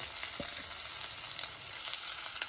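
Finely chopped onion sizzles and fries in a hot pan for idli upma, a steady crackling hiss at close range with faint stirring and no voices.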